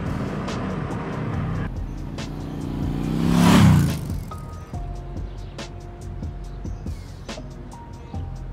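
A motorbike rides through rain in Bali, its engine droning steadily up close with a rising swell of wind and tire hiss midway, then steady tones and ticking.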